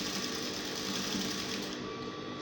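A sewing machine stitches crinoline into a fabric peplum flare, giving a steady, close, continuous mechanical whir with no pauses and no voices.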